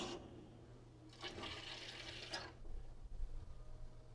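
Water rushes and sputters from household faucets as the plumbing supply is turned back on, a loud, hissing gush lasting about a second and a half before falling away to a low steady hum.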